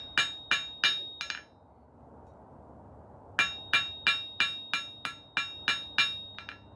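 A 1.5 pound ball peen hammer strikes the threads of a steel wood screw in sharp, ringing metallic taps: four quick blows, a pause, then a steady run of about a dozen evenly spaced strikes, close and clear.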